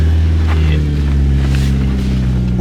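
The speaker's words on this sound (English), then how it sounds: "I gotta get a better exhaust though." A Mitsubishi Evo engine idles loud and close through its stock exhaust, a steady low rumble that holds without revving, with faint wind buffeting.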